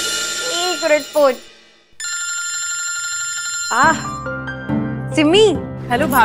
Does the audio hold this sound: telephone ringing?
yes